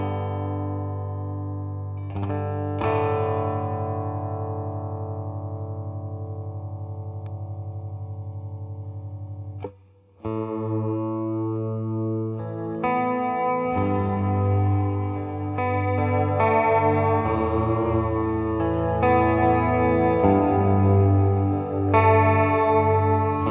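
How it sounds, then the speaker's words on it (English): Electric guitar played through an Old Blood Noise Endeavors Sunlight reverb and an Electro-Harmonix Attack Decay swell pedal: soft swelling notes and chords bloom and sustain with a lush wash, briefly cutting out midway before denser layered chords build. "using the Attack Decay Swell pedal by Electroharmonics. Just check it out."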